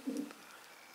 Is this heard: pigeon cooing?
yes